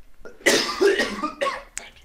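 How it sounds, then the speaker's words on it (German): A single person coughs several times in quick succession close to the microphone, a short rough burst followed by a couple of smaller hacks, with no talk. "Nicht husten"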